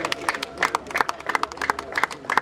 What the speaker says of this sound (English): So I want you to please give him a round of applause.